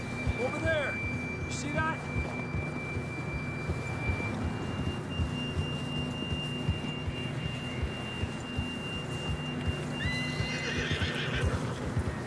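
Horses whinny and snort while hooves trudge steadily through snow in Red Dead Redemption 2, over a constant synthetic ambient drone and faint chirping tones.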